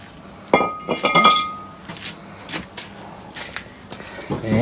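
Metal clanks and a sharp ringing knock as a worn Jeep wheel rotor is broken loose from the hub bearing assembly, a few close, loud impacts followed by quieter rattles and scrapes.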